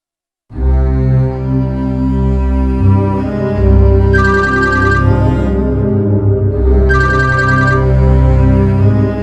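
A phone rings in two bright electronic bursts over a loud, sustained tonal drone that fills the whole stretch.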